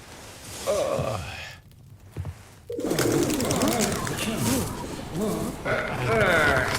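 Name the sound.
pigeons cooing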